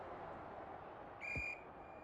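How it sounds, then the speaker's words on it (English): Umpire's whistle at an Australian football match: a single short, sharp blast lasting under half a second, fairly faint over steady crowd and broadcast noise. "We've got a whistle."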